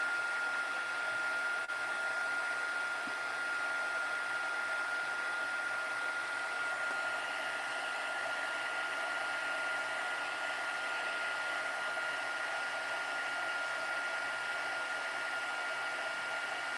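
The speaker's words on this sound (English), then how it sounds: "I always turn the heat gun on for a few minutes and let it heat up before I heat this." A heat gun melting gold embossing powder on a handmade Christmas card, blowing a loud, continuous whooshing hiss with a steady whine that holds evenly throughout.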